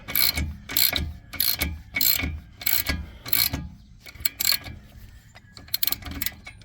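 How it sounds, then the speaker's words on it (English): Ratchet wrench tightening a spline bolt on a Ford Explorer front strut, heard as repeated bursts of close, crisp ratcheting clicks in a steady back-and-forth rhythm, with no talking. "as I tighten the ratchet now that they're lined up, that spline bolt is pulling in"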